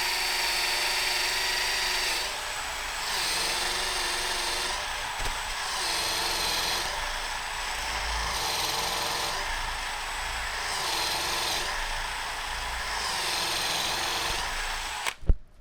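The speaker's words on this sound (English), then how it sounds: "this is a 7/8 Forstner bit, and I'm just going to kind of get it going here and sort of eyeball it up the middle" A 7/8 inch Forstner bit in a power drill boring into wood, a steady loud whirring grind that swells and dips in repeated passes, ending in a sharp clack.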